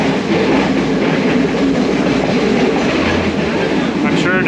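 A modern passenger train in Sri Lanka rolls along fast, heard from inside as a constant loud roar of wheels on track with some rattling and a brief faint ringing near the end.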